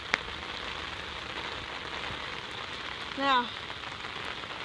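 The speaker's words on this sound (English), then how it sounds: "You can hear how hard it's raining down." Steady, dense hiss of heavy rain pouring down on a flooded street, with a brief voice speaking partway through.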